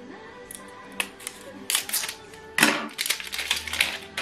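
An ink cartridge pushed into an HP OfficeJet Pro 8025 printer, giving sharp plastic clicks and snaps among quieter handling rattles, close and crisp, with the loudest clicks near the middle.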